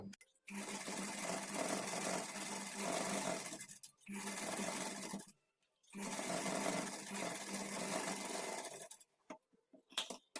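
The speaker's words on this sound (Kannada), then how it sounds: "ಈಗ ಇದ್ರ ಮೇಲೆ ಇನ್ನೊಂದು ನಾವು ಡಬಲ್ ಸ್ಟಿಚ್ಚನ್ನು ಹಾಕ್ಕೊಳ್ಬೇಕು" A sewing machine runs a double stitch over attached puff sleeves, whirring steadily close up in three long runs broken by short stops.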